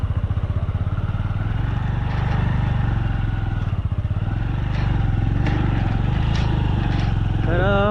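A motorbike engine drones steadily and close throughout a ride on a monsoon-season route toward Kondi waterfall, with gear changes and rattling over a rough path, the rumble loud and continuous.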